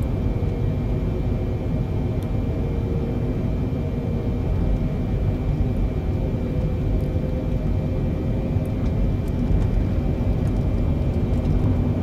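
Simulated Boeing 747 on landing approach with gear down in Microsoft Flight Simulator, heard as a steady, loud cabin engine roar with a constant low rumble and a faint high whine throughout.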